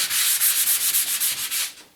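Brisk back-and-forth hand sanding with an Abranet abrasive mesh pad, about a dozen quick rhythmic strokes close up, trailing off at the end.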